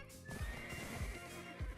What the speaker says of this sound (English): I think the horse is safe here